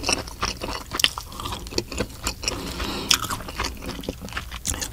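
Someone eating grilled and raw striped beakfish, with close, steady chewing and soft crunching bites, wet squishy textures and occasional louder crisp bites running continuously with no talking.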